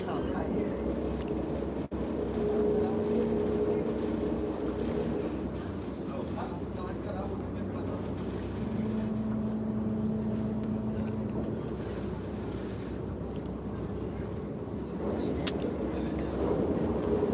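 A boat engine drones steadily, its pitch rising and shifting as it revs, with wind noise and occasional talking over it.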